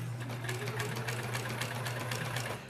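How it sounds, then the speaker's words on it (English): A sewing machine stitching quilt block pieces runs in a steady, fast needle rhythm with a low motor hum, close and continuous, easing off at the very end. "I'll sew this and then we'll rotate it again."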